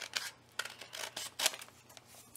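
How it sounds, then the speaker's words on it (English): Ordinary scissors cutting through six stacked sheets of paper; several faint, crisp snips spaced irregularly, close by and alone in a quiet room. "So let's see if just regular old scissors will go through there."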